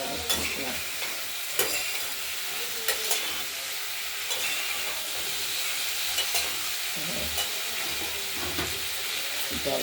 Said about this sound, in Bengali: এবার আমরা ফুলকপি ভেজে রাখা ফুলকপিটা দিয়ে দিলাম মাখা মাখা হয়ে